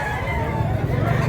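A chicken clucks at a busy poultry market in Mantalungon, Cebu, its short calls close by over a murmur of people talking in the background.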